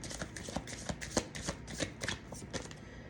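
Tarot cards are shuffled by hand in a rapid, continuous run of crisp riffling and slapping, soft and close, with no voices.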